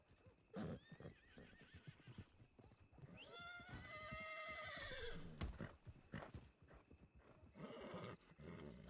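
A horse in the video game Red Dead lets out a long, rising-and-falling whinny amid soft hoof clip-clops and snorts, with quiet shuffling movement around it.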